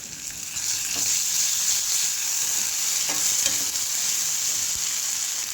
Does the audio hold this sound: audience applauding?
no